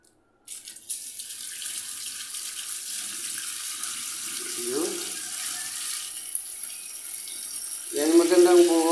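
Water pours steadily into a toilet fixture, with a brief voice partway through and someone talking at the end.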